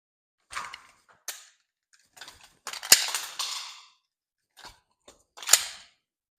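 Pistol dry fire practice: sharp isolated trigger clicks and mechanical magazine reload clacks, spaced irregularly in a quiet room with no talk.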